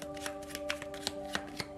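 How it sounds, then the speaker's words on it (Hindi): Tarot cards are shuffled by hand close up, a quick run of crisp riffling flicks at an even rhythm, about six sharp snaps over a soft papery rustle. "थोड़ी सी और कार्ड्स ले लेते हैं सिंह राशि के लिए"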